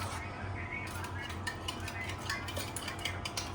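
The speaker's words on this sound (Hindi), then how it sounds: "खीर निकाल रही हूँ मैं" Kheer served from a pot into bowls, with quiet clinks of a spoon against metal and soft scraping, low in level with faint background hum.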